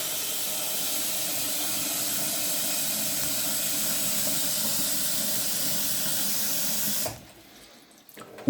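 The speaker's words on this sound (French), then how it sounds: "Donc je remplis ma casserole d'eau." Tap water runs steadily into a pot, a constant hissing gush close by, then the faucet shuts off abruptly near the end.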